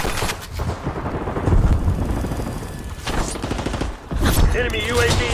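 Turret gunfire rattles through a video game battle, dense, loud bursts of automatic shots running almost continuously with brief dips, mixed with explosive rumble and fragments of voice chatter.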